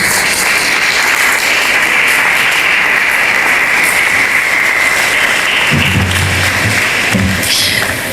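Applause from an audience inside a cathedral during a university symposium, a broad, steady patter of clapping filling the space, with a few low thumps near the end.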